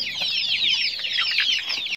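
Chickens on a poultry farm clucking steadily and close by, a dense overlapping flock chorus running throughout with no talk.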